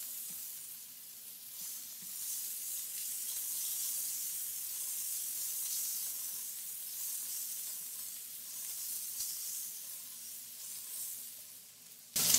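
Onions and garlic sizzle steadily in a hot pan for a shrimp and sausage jambalaya, a continuous close frying hiss with no voices.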